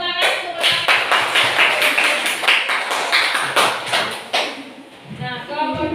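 A classroom of students breaks into brisk applause, many hands clapping in a dense, fairly close burst that thins out toward the end, with some voices mixed in.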